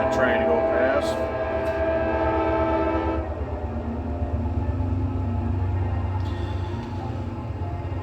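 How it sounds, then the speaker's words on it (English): A train, likely an Amtrak, rumbles past nearby with steady low wheel and engine noise throughout, a horn-like tonal blast over the first three seconds before it settles into a continuous rolling drone. "there's a train going by too. You guys could probably hear it. Probably the Amtrak."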